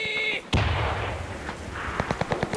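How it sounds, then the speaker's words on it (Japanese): Artillery fire in the World War II game Enlisted: one loud, close boom with a long rumbling tail, followed by a run of quicker, sharper distant shots, with faint voices in the background. "了解、砲撃確認。"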